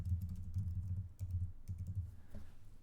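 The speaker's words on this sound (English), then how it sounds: "let's just type it like this" Computer keyboard typing while a store address is entered into a WooCommerce site form, a steady run of close, quick keystrokes with a few brief pauses, with no talking.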